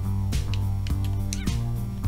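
A cat meows in the video game Always Sometimes Monsters, set in an apartment, with a few short calls over a steady game music bed.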